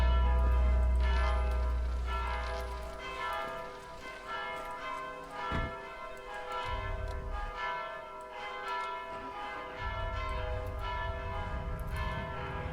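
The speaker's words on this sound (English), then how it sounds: "Those bells are getting annoying." Church bells ringing in the video game Mon Bazou, repeated resonant tolls with long ringing decay, heard clearly alongside low engine rumble.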